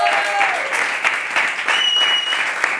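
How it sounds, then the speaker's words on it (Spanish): A studio audience on a talk show breaks into loud, close applause, brisk clapping with a few sharp accents, sustained without pause over a couple of seconds. "un aplauso para eso, sí señor"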